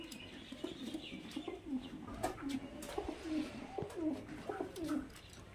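Highflyer Giribaz pigeons cooing in a loft, repeated soft throaty coos in a steady rhythm, close and fairly faint, with light chirps and background room noise.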